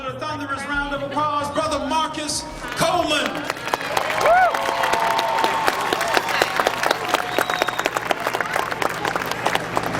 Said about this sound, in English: Let's welcome with a thunderous round of applause, Brother Marcus Coleman.